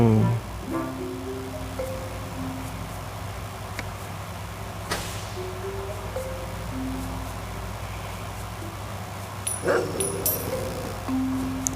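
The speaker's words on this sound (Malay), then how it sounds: "anjing ni tak tali, bahaya." Dog barks and yips in the video game Robbery Bob 2, a few short scattered calls over steady game background music and ambience, with no talking.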